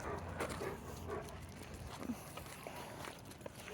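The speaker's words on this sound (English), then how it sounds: "There's some dogs barking over there that he's listening to." Faint dogs barking far off, a few scattered woofs over steady outdoor background noise, with no talking.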